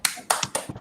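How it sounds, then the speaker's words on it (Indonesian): A classroom clapping chant, "tepuk hebat", heard as four quick, crisp claps in a short rhythmic pattern, close and sharp, with no talk during the claps. "Tepuk hebat untuk semuanya."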